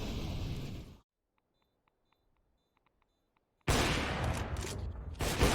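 Gunfire in a competitive first-person shooter match on the Train map. A loud burst of shots gives way to near silence with faint ticks, then another heavy volley erupts and carries to the end.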